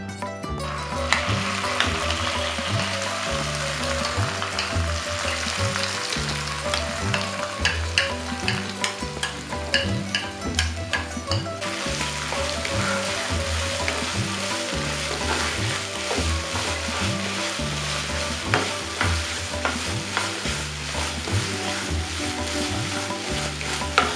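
Ground spice paste fries and gets stirred into a hot tempering for stuffed kantoli, with a loud, continuous sizzle and repeated scraping stir strokes throughout and no talking.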